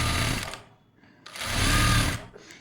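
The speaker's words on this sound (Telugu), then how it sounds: "ఇలా పెట్టేసుకుంటూ స్టిచ్ చేసుకుంటూ వెళ్ళిపోవాలి" Two loud, close bursts of a sewing machine stitching fabric piping, each a fast mechanical whir with a brief pause between them.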